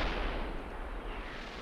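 Rocket artillery firing in the Steel Beasts combat simulator, a steady low rumbling roar of launches and blasts filling the whole moment, loud and continuous with no distinct separate shots.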